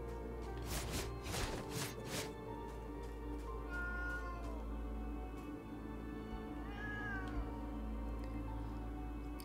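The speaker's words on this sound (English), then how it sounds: "Are you all right, cat?" A cat meows several times in the dark fantasy video game Moonscars, with clear rising and falling cries over a steady low game drone and ambient music.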